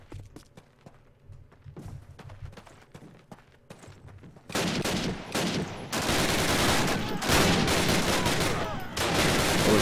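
Tommy gun fire in a Call of Duty World War II battle, sparse thumps and shots at first, then sustained loud rapid bursts of automatic fire mixed with explosions.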